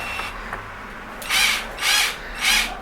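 A power drill whirs in three short, loud bursts, each roughly half a second long with brief pauses between them, and a couple of faint clicks come before the first burst.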